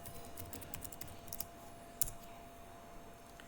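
A computer keyboard being typed on to enter a dashboard name, a quick run of light, close key clicks with a couple of sharper taps, quiet and alone with no voices.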